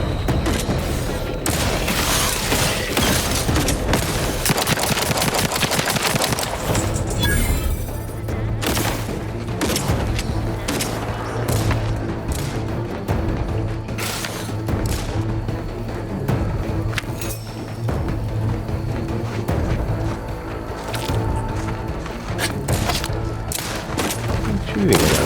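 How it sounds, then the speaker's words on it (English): Bursts of gunfire and booming explosions in the video game Outer Worlds 2 repeat in rapid clusters, mixed with impacts and thuds, with game voices and talking running underneath the combat. "Shooting at them."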